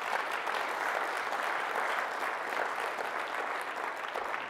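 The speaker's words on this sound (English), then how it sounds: "let's just say a big hand clap thanks to the facility, to all the hard work they've done" An audience at a Wi-Fi conference session claps for the facility staff, a sustained and even round of applause from a full room without pauses.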